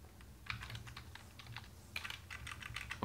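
Rapid keystrokes on a computer keyboard as text is typed, quiet clustered clicks in two short bursts, alone with no speech.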